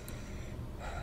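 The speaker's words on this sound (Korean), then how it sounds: "주인공 숨소리 겁나 은은한 게 너무 무서워" Soft, hushed breathing of the player character in the horror game Madison, a quiet, close inhale-exhale under a low ambient drone.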